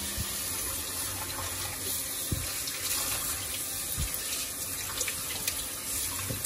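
Tap water runs steadily into a sink while something is rinsed thoroughly under the stream, a continuous close splashing hiss with a few brief clunks of handling.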